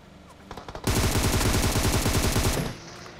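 Gunfire in the mobile game PUBG Mobile: a few scattered shots lead into a loud, rapid automatic burst that lasts about two seconds and then stops abruptly.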